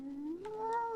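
A voice imitates a cat, giving one drawn-out rising meow, close and clear, spoken by a character in the video game AI: The Somnium Files.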